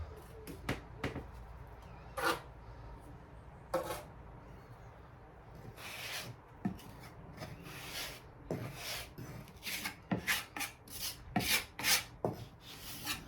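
Trowel scraping and rubbing as plaster is applied to a wall, repeated rasping strokes of varying length and loudness, growing busier toward the end.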